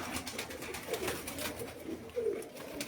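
Pigeons bred for high flying on a rooftop give soft, low coos, two or three brief calls over a rough, breezy background, fairly faint and without talk.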